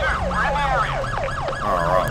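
A police car siren in GTA 5 with the LSPDFR mod wails in rapid, repeating rising and falling sweeps, loud and close over a low engine drone.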